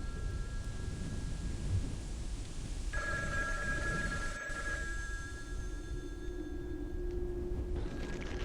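Telephone ringing with sustained electronic tones that shift partway through, heard at moderate level over a dense, rumbling background, with no talking.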